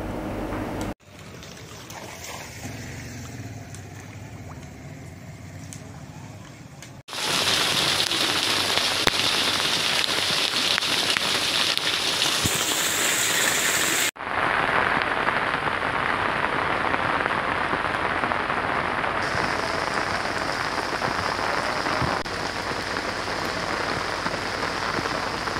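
Heavy afternoon downpour pounding a town's streets and roofs, a dense, steady roar of rain that shifts in tone across several cuts, with no voices.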